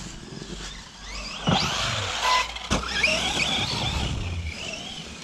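An ARRMA Outcast 4S RC truggy whines as it drives, its electric motor revving up and down in bursts with scrabbling and thuds over rough ground, fairly close and loud, with no talking.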